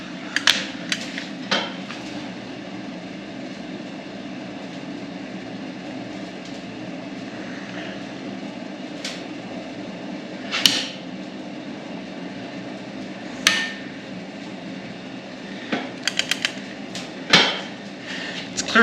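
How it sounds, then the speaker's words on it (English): A click-type torque wrench set to 100 foot-pounds tightens bolts on a Kaiser M715's rear Dana 80 axle, giving a few sharp, isolated metallic clicks over a low steady background hum. "So that is my click-type torque wrench at 100 foot-pounds."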